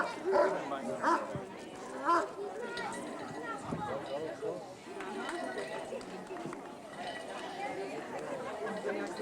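A police dog barks repeatedly during a handler's bite-work demonstration at an outdoor block party in Cumberland, Maryland, with sharp barks and yips mixed into crowd chatter and shouting voices.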